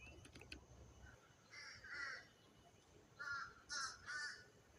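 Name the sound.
crows cawing in trees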